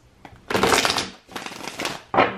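Two bursts of tarot card shuffling, a long riffle followed by a second, then a brief third flutter, close and crisp with no talking.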